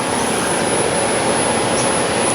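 Steady, loud whooshing of an active cooling fan on a three-phase Zappi EV charger, a constant broadband rush with a thin high whine, close and unbroken.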